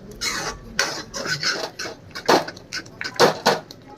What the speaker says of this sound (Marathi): हे असं चांगलं मस्त फेटून घ्यायचं।